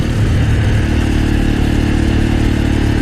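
A roughly 30-year-old Honda AX1 250cc supermoto motorcycle runs loud and near while being ridden, its single-cylinder engine droning at a steady, throbbing pitch without letup.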